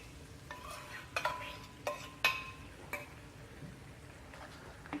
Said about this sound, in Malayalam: ഇനി ഇതിലേക്ക് നമുക്ക് ഈ മുട്ട ഒഴിച്ച് കൊടുക്കാം.